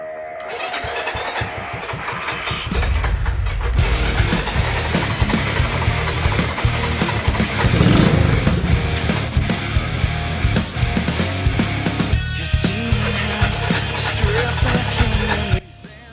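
A Honda 125M motorcycle, dormant for 26 years, cranks on ether, then fires into a loud, uneven, sputtering run with surging revs before cutting out abruptly at the end.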